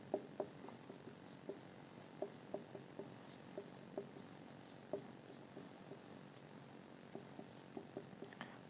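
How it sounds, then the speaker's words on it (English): Marker or chalk writing on a board during a biochemistry lesson on beta oxidation, faint scattered taps and light strokes at irregular intervals over a low steady room hiss, with no talking. "Let me write it."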